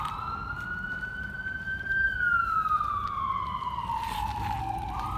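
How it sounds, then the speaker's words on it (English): A wailing siren near bridges in Natchitoches rises and falls steadily over low traffic rumble, fairly close and loud, with a second siren tone faintly layered above. "all sirens are right there"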